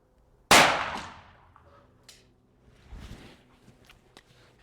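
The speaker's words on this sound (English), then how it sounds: "All the shots so far have been with my home rolled Spagnum, somewhere between Special and Magnum power." A single sharp pistol shot from home-loaded ammunition between .38 Special and .357 Magnum power cracks loudly outdoors at a 50-metre range and decays quickly, followed by faint scattered knocks and rustle.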